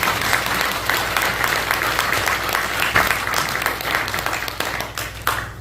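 A church congregation applauds at a Korean Presbyterian pastor's installation service, steady broad clapping sustained throughout at moderate distance, with a faint hum underneath.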